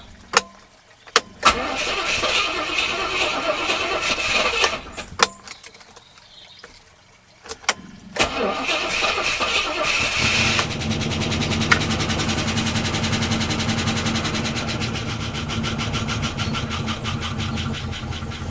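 A 1968 Rover P5B with fuel pump on and choke applied cranks with clicks and a stuttering starter, pauses, then catches and settles into a loud steady idle, heard up close without talk.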